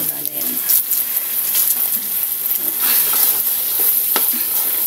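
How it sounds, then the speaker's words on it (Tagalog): Rice stir-fried in a hot pan with pepper and seasoning, a continuous sizzle broken by scraping and stirring strokes of a utensil, close and fairly loud. "Igisa lang natin ng matagal"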